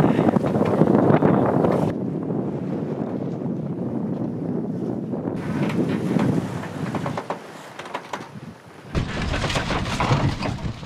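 Sailboat at sea in strong wind with big waves of about two metres, loud gusting wind buffeting the microphone with rushing water and hull noise, cutting in and out in bursts.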